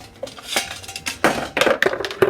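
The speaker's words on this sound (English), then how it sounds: "Go ahead and whisk these together." A whisk clatters quickly against a bowl while ingredients are beaten together, irregular metallic strokes and clinks of varying strength at close range, with no talking.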